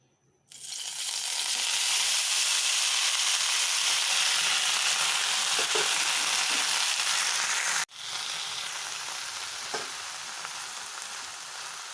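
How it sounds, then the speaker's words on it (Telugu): Washed coriander leaves frying in hot oil for a chutney make a loud, steady hiss that starts suddenly, breaks off for an instant, then resumes slightly softer with faint stirring clicks. "మనం రెడీ చేసి వాష్ చేసి పెట్టుకున్న కొత్తిమీర కూడా మనం వేసుకుని ఫ్రై చేసుకుందాం"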